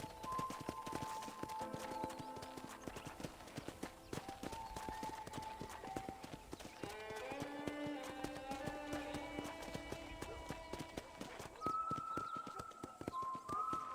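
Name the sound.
horse hooves while riding, from the video game Red Dead Redemption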